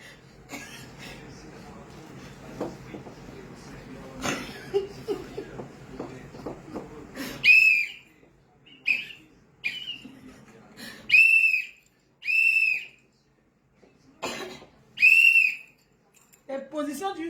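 Sharp, high whistle blasts sound repeatedly, five or six short bursts spaced a second or two apart, following a stretch of lively talk, shouting and background commotion at a Bangala bass music event.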